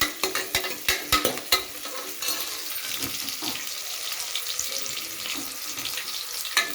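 Onions frying in a pan until lightly golden for a mutton curry, with a burst of sharp taps from a spoon on the pan at first, then a steady close sizzle and stirring.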